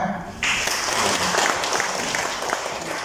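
A church congregation at a Feast of Saint Joseph mass bursts into steady clapping that lasts several seconds, dense and fairly loud with no voices over it.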